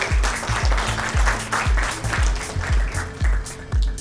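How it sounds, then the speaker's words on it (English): Audience at a film festival award ceremony clapping in a sustained round of applause, fairly close with a pulsing rhythm, and no one talking over it. "A huge round of applause for that"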